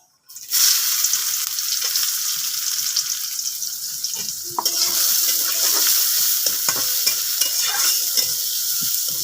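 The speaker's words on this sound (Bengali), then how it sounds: "শুকনো জলটা হালকা একটু ভাজা হবে তার ভিতরে দিয়ে দেব পেঁয়াজ রসুন কুচি" Dried chili hits hot oil with a sudden loud sizzle that holds steady. Midway the frying flares up again as chopped onion and garlic go into the pan, with stirring clatter throughout.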